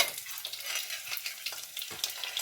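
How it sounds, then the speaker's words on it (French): Ginger, cashews and raisins sizzling in hot oil over lowered heat, a close, crackling hiss with rapid irregular spits and pops throughout, no talking. "voilà, je fais crépiter. Et là, je verse tout de suite le gingembre."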